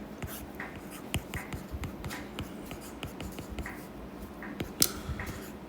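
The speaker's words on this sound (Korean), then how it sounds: "요렇게 한번 써볼게요" Pen writing on paper during a math problem, soft close scratching strokes with small taps, steady and quiet with no talking.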